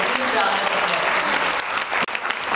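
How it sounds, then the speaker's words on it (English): An audience at a book launch in Kolkata claps in steady, dense applause, close and loud for the whole stretch, dipping only briefly near the end. "applause."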